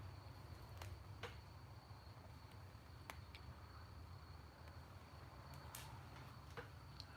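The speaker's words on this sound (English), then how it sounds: "Cricket in the floor." A cricket in the floor of a house gives a steady, thin, continuous trill, faint and distant, over a low background hum with a few soft clicks.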